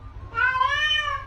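A cat lets out one clear, rising and falling meow up close, lasting about a second over a quiet background.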